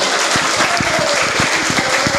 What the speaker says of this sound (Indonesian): Tepuk tangan dulu gak apa-apa, tepuk tangan dulu.